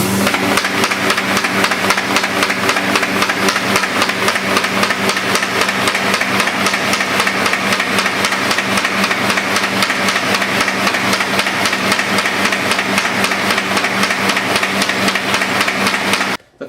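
A BAUM 714XLT paper folding machine runs with its rollers switched on, giving a loud, steady mechanical drone with a rapid, even clatter that continues unbroken before cutting off abruptly at the very end.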